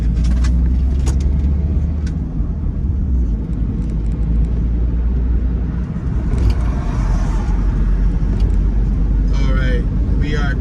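A car drives along a city avenue in Memphis, Tennessee, behind a police car, with a loud, steady low engine and road rumble throughout while a person talks over it.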